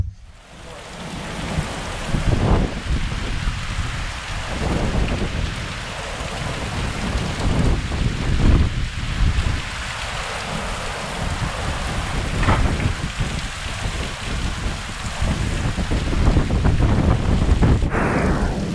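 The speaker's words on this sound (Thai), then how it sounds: "พอดีฝนตกครับผม" Heavy rain falls steadily in the forested hills of Kanchanaburi, Thailand, with rolling thunder rumbling through a dense, loud downpour and occasional gusts buffeting the microphone.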